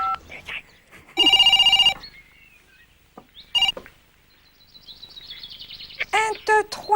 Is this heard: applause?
no